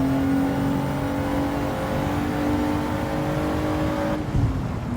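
A car engine in Gran Turismo 7 revs and drones with a steady tonal whine that holds for several seconds, then drops off abruptly as the throttle lifts, alone with no talk.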